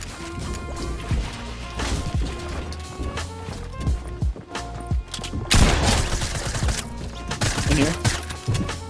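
Rapid volleys of gunfire and sharp impact cracks ring out in a Fortnite match, dense and fairly loud, with bursts overlapping in a busy, continuous stream of game action.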